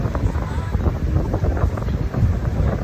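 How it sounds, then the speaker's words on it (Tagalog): Strong wind at Subic Bay, Philippines buffets the microphone in a steady low roar, loud and continuous throughout, with faint water-like rumble beneath. "napakalakas ng hangin"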